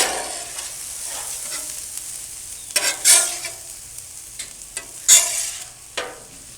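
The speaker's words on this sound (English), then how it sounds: "I'm going to move them to the cooler side of the griddle and start the steak" Onions on a griddle sizzling as a spatula pushes them toward the cooler side for a cheesesteak, with a soft hiss fading in and out and several loud metallic scrapes near the end, up close and without speech.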